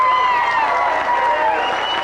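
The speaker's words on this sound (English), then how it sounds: "I think you deserve a very large round of applause from all the parents and friends that came to support you." A crowd of parents and friends applauds and cheers for the Bloomington North marching band at the Rose Parade, with raised voices and whoops ringing above continuous clapping.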